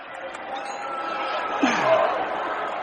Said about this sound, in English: The fans crowding me out, drowning me out